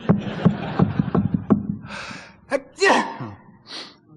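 A voice imitates a sequence of short coughs, a sneeze and sniffs, delivered one after another up close with brief pauses between them.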